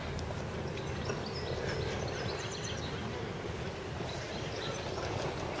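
A train rumbles steadily past, a dense low roar with faint rhythmic rail clatter, continuous and fairly close.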